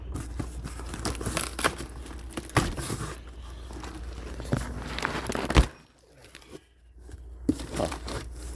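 A heavily taped cardboard box being opened one-handed, with close crinkling, tape tearing and scraping in irregular bursts, then a short pause and a few more rustles.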